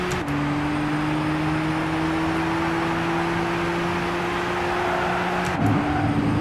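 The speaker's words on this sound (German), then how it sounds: "auf Startziel fahren wir natürlich wieder ganz regulär ein. Und zwar mit Vollgas." A Gran Turismo 6 race car at full throttle holds a steady, droning engine note for about five seconds, then the pitch drops briefly as it shifts before climbing again. The engine is loud and constant with no talk.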